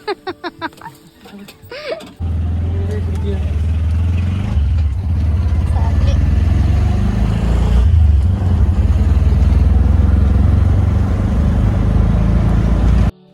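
An auto rickshaw ride: a steady low engine drone runs throughout, with a sharp start after a brief moment of quieter speech-like sound, continuing loud and close.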